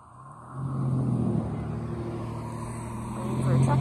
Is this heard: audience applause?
no